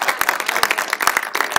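Scattered handclaps from a church congregation, quick sharp claps in an uneven steady rhythm, close and fairly loud.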